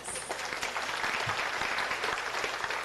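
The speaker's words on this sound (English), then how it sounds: "Give yourself a round of applause." An audience at the Indianapolis Mayor's Celebration of Diversity Awards applauds, a dense, steady wash of clapping that holds at an even level for about three seconds with no voices over it.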